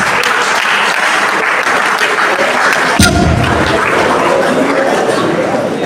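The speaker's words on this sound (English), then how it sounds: "Dr. Ologunde deserves another round of applause." An audience applauds during the opening ceremony of an engineering and earth sciences conference. Dense clapping fills the hall at a steady level, and a thud marks a change midway as the clapping carries on.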